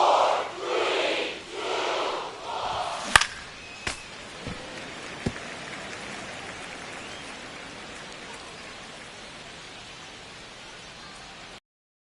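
Baseball stadium crowd during a long at bat, a broad steady roar of many voices swelling in pulses at first, then settling into a sustained wash of crowd noise with a few sharp claps or cracks.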